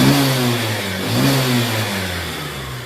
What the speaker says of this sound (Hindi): लगभग 10-20 की स्पीड में थ्रोटल दे रहा हूँ